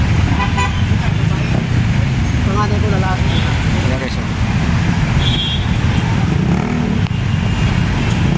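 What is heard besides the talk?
road traffic at a busy intersection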